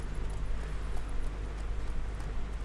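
Horse hooves clip-clopping in The Witcher 3: Wild Hunt, a steady run of soft, regular hoofbeats over a low rumbling game background, moderately close with no voices.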